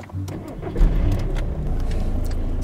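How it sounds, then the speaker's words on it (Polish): A small car's engine cranks and catches, settling into a steady close running hum with a brief louder burst as it fires. "To ja odpalam samochodzik."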